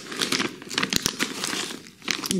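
A plastic bag of Seoflora orchid substrate crinkles and rustles up close in a quick burst of sharp, irregular crackles lasting a couple of seconds.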